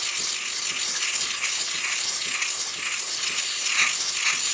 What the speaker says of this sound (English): As you can see here, nice steady steam coming out of the machine.